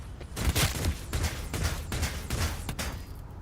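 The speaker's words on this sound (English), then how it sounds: "because I hear gunshots." Gunfire crackles in the video game Warhammer 40k Rogue Trader, a quiet rapid volley of repeated shots in a steady rhythm lasting several seconds.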